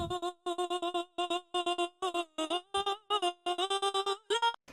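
Choppy synth chords pulse on and off through a trance gate in a quick, syncopated rhythm, the sound cut into short regular bursts with brief gaps between.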